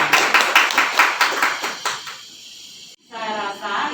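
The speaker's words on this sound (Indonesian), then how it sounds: "Tepuk tangan buat teman kalian." Classroom applause, a burst of brisk clapping from a group that fades out after about two seconds, followed by a brief quiet and a faint hum.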